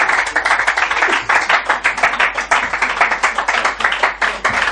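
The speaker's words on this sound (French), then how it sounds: "Applaudissez s'il vous plaît pour l'ambassadeur de la souffrance." Dense clapping from an audience greeting a guest, steady and energetic throughout with no pauses, close and loud with many hands.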